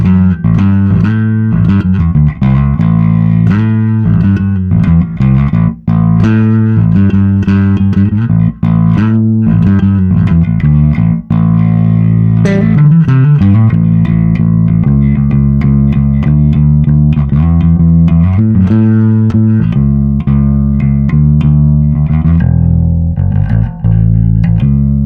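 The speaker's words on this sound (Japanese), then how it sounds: "こういう歪みいいなと思ってヴィンテージマイクロチューブ" Electric bass played through the Vintage Microtube tube-style distortion on a Zoom MS-60B multi-effects pedal, a loud, continuous overdriven line of sustained notes and quick picked runs with no talking.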